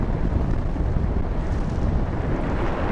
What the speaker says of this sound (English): Quartering headwind.